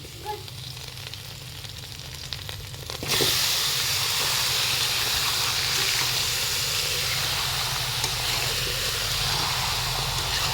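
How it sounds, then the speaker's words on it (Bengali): Three kilograms of chicken hit a pan of deep-fried onions, and after a quiet stretch a loud, dense hiss suddenly bursts in and holds steady and close to the end. "এবার এর মধ্যে চিকেন ঢেলে দেবো।"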